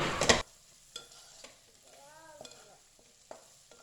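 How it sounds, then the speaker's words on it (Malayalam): Tomato and onion sautéing together in a pan, opening with a loud short sizzling burst, then quieter scattered scrapes and stirring clatter against a soft background. "നമ്മുടെ തക്കാളി നന്നായിട്ടൊന്ന് വഴന്ന് വരണം, സവാളയുടെ കൂടെ നന്നായിട്ടൊന്ന് യോജിച്ച് വരണം."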